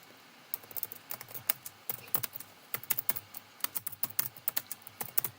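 Typing on a computer keyboard to enter a chat message, with rapid irregular key clicks in bursts and short pauses, close and quiet, with no voices.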